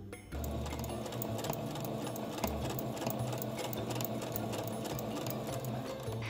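Sewing machine running steadily and close by, its needle hammering in a fast even rhythm while it stitches through handspun, handwoven fabric to seal the warp and weft, with only a brief pause near the middle.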